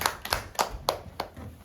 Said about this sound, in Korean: 우리 잘 관찰해준 예랑이한테 박수.